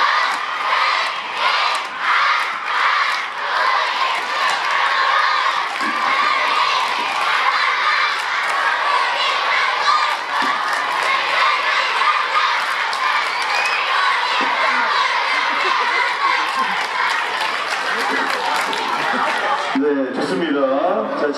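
A large group of children at an elementary school sports day cheers and shouts together continuously in a blue-versus-white team cheering contest, loud and energetic, with rhythmic chanting and clapping throughout.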